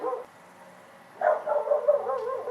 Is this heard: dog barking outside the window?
yes